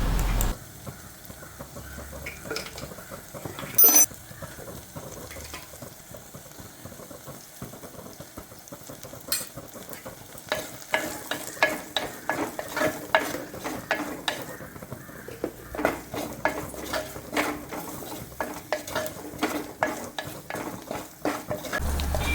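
Coriander, chilli and turmeric powders with chicken masala powder are sautéed in a pan for a papaya curry: a soft, steady sizzle under repeated scraping stirs and light clicks of a spoon on the pan, growing busier toward the end, with no talking.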